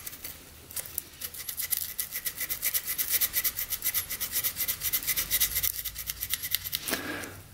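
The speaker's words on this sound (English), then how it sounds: "So we're gonna take a little WD-40 and a little piece of sandpaper." Sandpaper wet with WD-40 rubs back and forth on the ignition points of a 1967 Yamaha motorcycle long stored in a barn, giving a close, steady rhythmic scraping of quick strokes that stops near the end.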